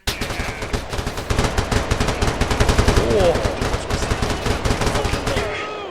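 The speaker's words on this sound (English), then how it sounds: "They're shooting me!" Rapid automatic gunfire rattles in a firefight in the video game Stalker Reforged, dense bursts of close shots repeating without pause for several seconds before fading at the end.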